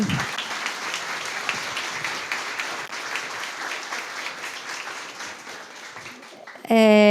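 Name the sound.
audience applause at book festival panel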